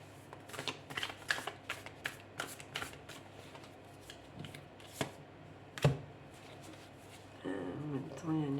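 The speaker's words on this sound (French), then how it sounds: "La rupture, si, elle y était dans le tarot tout à l'heure." Tarot cards being shuffled by hand, a series of quick crisp riffling bursts in an uneven rhythm, fairly close but soft, followed by someone speaking French.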